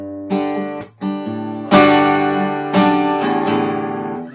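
Acoustic guitar moving from fingerpicked notes into strummed chords in a passage from a live song, with clear plucked attacks giving way to fuller ringing strums, close and alone.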